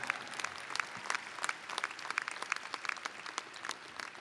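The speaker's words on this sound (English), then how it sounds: "So you all deserve a round of applause for that." A commencement audience at the Prudential Center claps in a dense burst of applause, many hands filling the hall at a fairly low, distant level for a few seconds.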